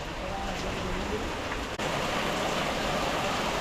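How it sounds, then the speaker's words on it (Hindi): Heavy rain with hail in Uttarakhand roars in a dense, constant wash of noise, with no clear breaks, close and loud throughout. "ये है ज़बरदस्त बारिश, देखो आ रही है ना"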